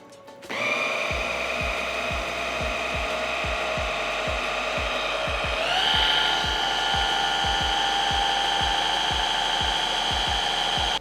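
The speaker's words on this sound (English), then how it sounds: "I'm gonna pop on our top for the food processor and turn it on and blend it" A food processor whirs loudly and steadily as it blends a cottage cheese pizza crust mixture, its motor pitch rising partway through, with a rhythmic ticking beneath the hum.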